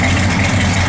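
A 1969 Dodge Dart Swinger engine idles with a loud, steady, low rumble, close by, for a brief moment with no talk.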